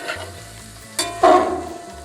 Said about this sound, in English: What we're trying to do is get a little bit of olive oil coating most of this.